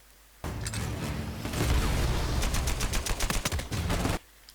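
Sustained gunfire in Uncharted 4 multiplayer, a dense roar of rapid shots and rattling bursts that starts abruptly and cuts off after a few seconds, loud and close.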